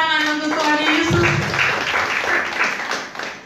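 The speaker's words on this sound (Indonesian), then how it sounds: "Tepuk tangan untuk Tuhan Yesus" A church congregation at a Sunday worship service claps together in a dense, steady patter filling the room, with a voice heard briefly at the start.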